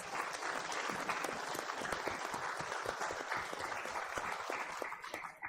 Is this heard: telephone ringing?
no